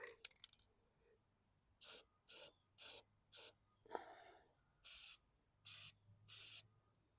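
Light primer coat sprayed onto a junk lawn mower from an aerosol can: seven sharp, close hissing bursts of roughly half a second each, separated by short silences, following a couple of faint rattles at the start.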